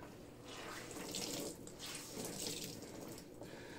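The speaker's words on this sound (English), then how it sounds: "I can wring more water percentage-wise out of this than I can the other towel" Water is wrung from a towel during an absorbency test, a faint continuous trickle and splash, like a running tap, that swells and eases in two or three surges.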